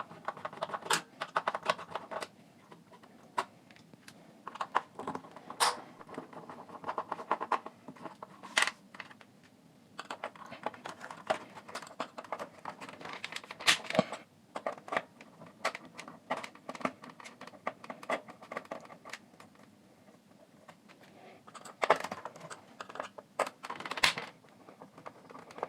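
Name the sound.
unscrewing 4 screws from Philips cassette radio recorder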